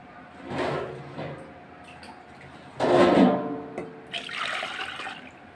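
Water is poured into a pressure cooker of rice up close in three separate splashing bursts, the middle one loudest, with brief quiet gaps between.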